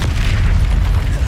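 A deep, booming blast from the Incendio fire spell in Hogwarts Legacy, loud and close, a dense low-heavy rumble that holds steadily through the whole short moment.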